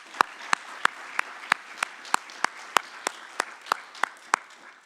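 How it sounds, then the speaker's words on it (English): Slow, evenly spaced claps at an academic conference awards session, about fourteen sharp hand claps in a steady rhythm over faint background noise, sparse rather than full applause. "So let's give them all a round of applause."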